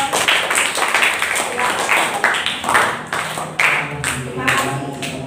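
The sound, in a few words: applause for the green group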